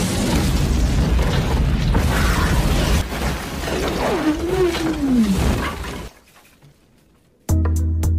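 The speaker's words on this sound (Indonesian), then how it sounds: "Beruntung ledakan tersebut terjadi setelah mereka sempat keluar dari tambang yang mulai hancur." A loud, roaring rumble with crashing debris as an explosion collapses a mine in The Mask of Zorro, then a sudden drop to near silence before another abrupt burst of sound.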